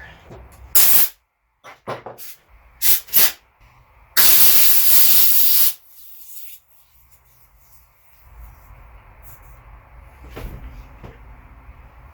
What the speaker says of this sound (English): I have to use a compressor.